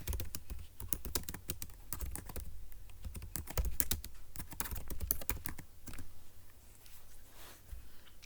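Rapid keystrokes on a computer keyboard patter close by in an irregular, continuous stream of clicks. The pace slows slightly near the end.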